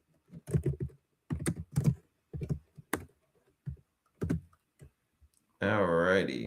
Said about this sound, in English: We're just typing in, letting some folks know we're here.